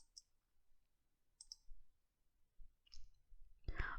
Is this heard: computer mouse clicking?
yes